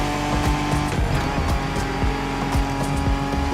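Ford Bronco driving in the racing game The Crew Motorfest on Oahu, a steady loud engine drone with repeated short tire squeals and shifts throughout.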